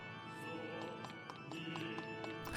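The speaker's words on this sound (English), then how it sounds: "Why are all these horses just being kept in Duma Tower?" Horses' hooves clip-clop in steady, quick taps in the video game Fire Emblem Echoes: Shadows of Valentia, moderately close over a soft ambient game background, with no talking.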